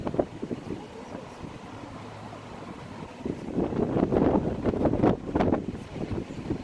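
Strong wind near a mountain wildfire, a low buffeting rumble of gusts against the microphone, building louder in the second half with irregular bursts.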